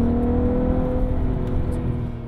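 A VW Jetta with a VR6 engine runs nearby, a loud continuous droning rumble with steady tonal whine, slowly easing off toward the end without any talk.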